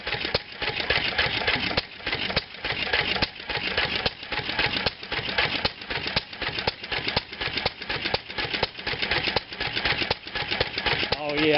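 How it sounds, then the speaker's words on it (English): A 1929 McCormick-Deering type M hit-and-miss flywheel engine, hand-started, runs with a loud, rapid, rhythmic chuffing and knocking pulse, steady and close, with brief dips in the beat. "a running engine there"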